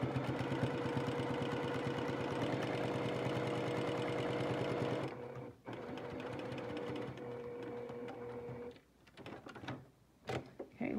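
A sewing machine stitching a fabric face mask runs in a fast, steady mechanical whir for about five seconds, then stops and starts in short bursts as the fabric is pivoted with the needle down.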